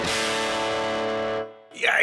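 Raw direct output of a tube guitar amp with no microphone emulation, heard through a Universal Audio Ox. One harsh, fizzy distorted chord sustains loud for about a second and a half, then cuts off, and a voice follows.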